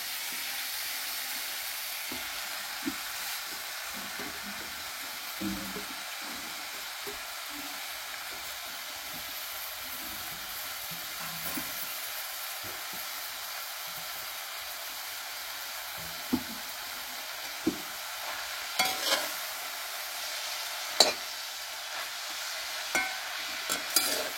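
Red amaranth leaves stirred into fried onion and green chillies in a pan, a low steady sizzle with scattered spatula knocks and scrapes that grow more frequent toward the end.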